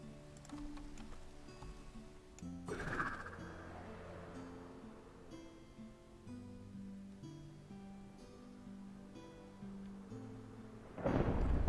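Minecraft thunder booms out as a single deep rumbling crack partway through, then swells again at the end, set against a soft rain hiss and gentle background music.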